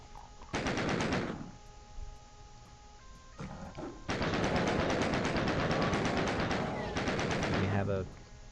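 Rapid gunfire bursts from the classic Doom first-person shooter, loud close volleys of repeated shots in several long runs with brief pauses between them.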